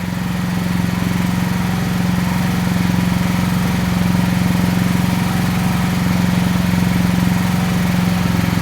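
A faulty portable generator engine runs steadily close by, a continuous droning hum with a firm low buzz that holds even for the whole stretch, with no talking over it.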